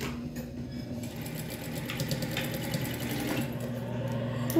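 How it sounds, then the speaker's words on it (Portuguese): Sewing machine stitching across elastic for a children's diaper-cover set, running back and forth to backstitch and lock it, a steady close mechanical whir with a low motor hum throughout. "É só passar uma costurinha dando retrocesso."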